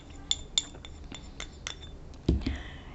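A spoon clinking against a glass bowl while scooping gram flour, several sharp bright taps spread across the moment, the last one heavier with a short rattle, close and quiet with no speech.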